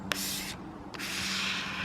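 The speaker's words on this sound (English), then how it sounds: "we're just gonna spray down on it" A spray bottle mists water onto a car sun strip on a Polo GTI in two close hissing bursts, a short one and then a longer steady spray, with no talking.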